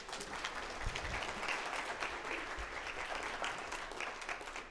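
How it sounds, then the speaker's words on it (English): A small seminar audience applauds a volunteer coming up to the front, with fairly quiet, steady clapping and a couple of low thumps, fading slightly toward the end. "Round of applause"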